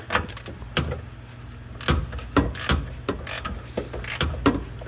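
Ratchet turned in short strokes while tightening a Jeep XJ shock mount, irregular sharp metallic clicks and clacks spaced about half a second apart, close up with no talking.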